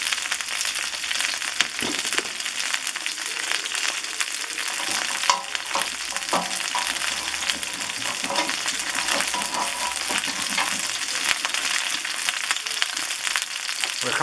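Chicken browns in a disco pan, a steady loud sizzle and crackle of frying fat running throughout with occasional stirring or scraping clicks, no talking.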